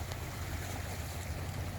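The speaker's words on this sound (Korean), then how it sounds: "제가 가장 좋아하는 파도 소리" Steady ocean surf at sunrise, a continuous low wash of waves breaking on shore with wind noise, even and unbroken throughout.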